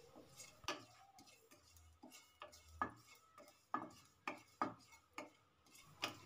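Poppy seeds dry-roasted in a pan on the stove, a spoon or spatula scraping and tapping the pan in roughly regular knocks about once a second, close but fairly quiet, with no talking.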